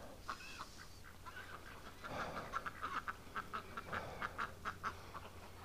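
Ducks quacking in quick, rhythmic bursts, close by, growing busier toward the end over a low background hum.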